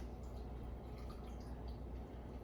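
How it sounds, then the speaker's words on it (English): Broth poured into a pot of chicken pot pie filling makes a faint, low liquid splashing and trickle, heard quietly with no other sounds over it. "I'm gonna add the rest of this broth"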